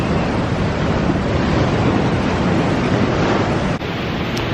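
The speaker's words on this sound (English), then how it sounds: "seeing the waves crash up" Ocean waves crash and wash onto the shore below cliffs in a steady, loud roar of surf mixed with wind buffeting the microphone, with no talking.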